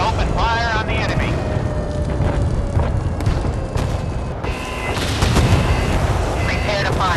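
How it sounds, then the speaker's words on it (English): Naval guns fire in World of Warships as deep rumbling booms and blasts over a constant low battle roar, with several heavier thumps and short synthetic voice callouts layered on top. "Ready to open fire on the enemy."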